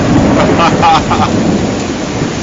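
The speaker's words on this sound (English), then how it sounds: "Everywhere just lightning and thunder and whatever." A loud, close rumble of thunder rolls through a thunderstorm in Krabi Town, Thailand, deep and sustained for a couple of seconds over a steady hiss of rain.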